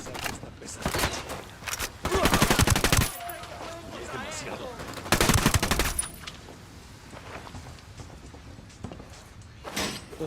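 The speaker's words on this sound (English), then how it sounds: "Opening fire." Automatic weapon fire from the video game Ghost Recon Wildlands, with two loud sustained bursts of rapid shots, a quieter stretch of battle noise between them and a short final burst near the end.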